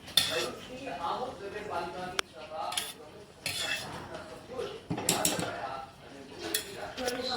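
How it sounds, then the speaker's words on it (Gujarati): A metal spoon scraping and clinking against a pot while ghee is stirred into sweet puran puri filling; irregular bursts of scraping and knocks, close by, with a person talking over them. "ઘી નાખીને સરસ મજાનું આપણે હલાવી દીધું છે"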